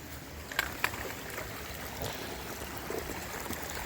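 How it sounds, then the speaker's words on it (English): Creek water flowing and a small waterfall running across a hiking trail, a faint steady wash of trickling water close by with a couple of brief knocks, no talking. "The water is flowing. Got the little waterfall going back there."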